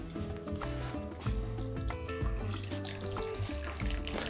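Boiled water poured into a pot over salted trout for broth, a steady running, splashing stream that holds close and fairly loud for several seconds with no talk.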